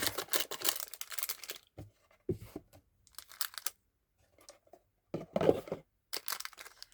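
Bursts of crinkly tearing and rustling as Pokémon card Elite Trainer Box packaging is ripped open, several separate rips and crumples with short quiet gaps between them, fairly close.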